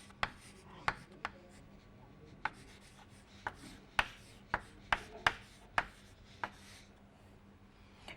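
Pen or chalk writing during an engineering lecture on oblique shocks: a quiet, irregular series of sharp taps and short strokes, close up in a hushed room, with no talking.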